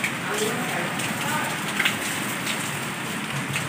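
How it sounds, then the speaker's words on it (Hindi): Heavy rain pours steadily outdoors during a monsoon downpour, a dense continuous hiss of drops hitting surfaces, close and fairly loud throughout with no voices over it. "बारिश जी एक मरतबा फिर तेज़ हो गई है"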